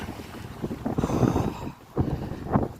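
Gusty wind in a sudden storm buffets the microphone in rough, uneven surges, with a hollow rumble like water slapping a boat underneath.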